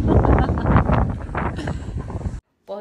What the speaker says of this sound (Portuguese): Mas tá ventando demais aqui.